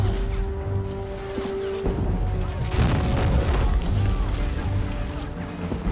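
Heavy cannon shot booms from a tank battle in the Men of War: Assault Squad war game, landing as loud, rumbling blasts with crashing debris over a dense, continuous battlefield din.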